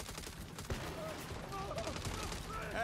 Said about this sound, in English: Can y'all stop shooting me?